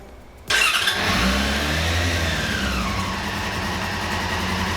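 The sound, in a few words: Suzuki DR-Z dual sport motorcycle engine starting and running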